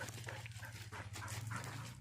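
Dogs whimper and pant close by near a cattle barn in a steady run of small yips and breathy sounds, over a low continuous hum.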